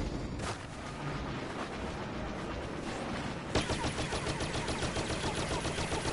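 Ion shot weapon firing in a Star Wars space-combat video game against TIE fighters and X-Wings, a dense roaring barrage that jumps into a louder rapid pulsing burst midway and keeps going, no talking.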